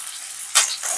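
Chopped onions and green chillies fry in hot oil, giving a bright, continuous sizzle with sharp splattering pops close by.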